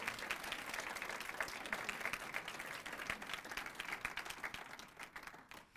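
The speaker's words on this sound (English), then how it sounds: "You can clap for me." Steady, soft clapping from a university lecture audience at a speaker series event continues evenly for several seconds, then thins out toward the end.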